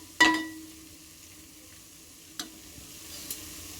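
A spicy mutton curry is stirred in a pan with turmeric, chilli powder and salt, giving a sharp scrape followed by a soft, low sizzle and a few faint later scrapes, with no talking.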